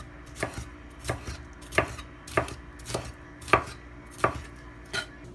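A knife chops peppers for curry on a cutting board in about nine sharp, evenly spaced strokes, close and clear with no talking.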